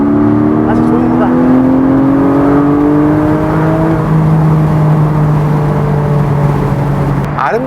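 A Porsche Boxster GTS 4.0 with a seven-speed PDK gearbox pulls hard from inside the cabin, its engine note climbing steadily and then dropping sharply at a quick gear change before rising again, loud and continuous.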